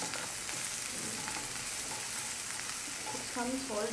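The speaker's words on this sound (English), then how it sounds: "So this will be a bit fried, and I put the chhena in." Chhena, fresh Indian cheese curds, stir-fried in a hot pan for a Bengali potoler dorma, giving a steady close sizzle with light scraping stirs throughout.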